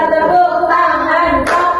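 Hand clapping during a classroom teaching activity, quick repeated claps close by with a background of voices and room sound, running through most of the short stretch.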